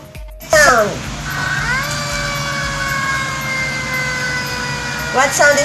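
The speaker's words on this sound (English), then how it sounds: "What sound is that? It's a fire truck." A fire truck siren wails loudly and steadily nearby, its rising and holding tones filling the whole stretch with a brief burst of noise at the start.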